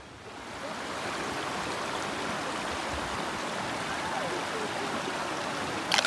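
A river flowing past a family campsite gives a steady, even rushing wash of water, fairly close and continuous, with no voices.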